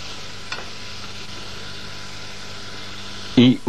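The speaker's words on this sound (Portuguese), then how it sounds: "Vamos deixar refogar sem ganhar cor." Chopped onion and a bundle of herbs gently sautéing in butter in a pot for a Piedmontese-style rice, a steady soft sizzle throughout with a brief louder clatter near the end.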